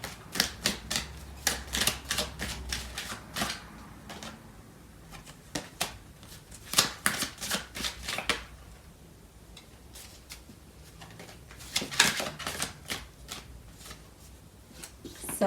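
Tarot cards being shuffled and handled, bursts of quick crisp riffling clicks close by, separated by quieter pauses.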